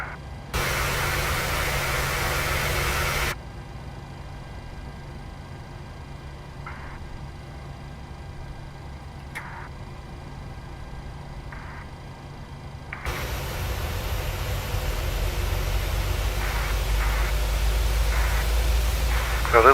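A PMDG 737-600 airliner in Microsoft Flight Simulator spools up engine number 1, a steady broadband roar swelling to a louder rushing hiss with a deep low rumble, after a quieter stretch of faint cockpit hum and clicks.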